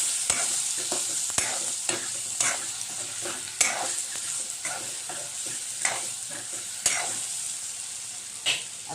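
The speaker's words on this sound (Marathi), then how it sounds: "हे बेसन आता यामध्ये थोडं आपल्याला शिजवून घ्यायचं आहे।" Gram flour (besan) being stirred and cooked in a pan for fried potatoes, with a steady sizzle under repeated sharp spoon scrapes and taps against the pan.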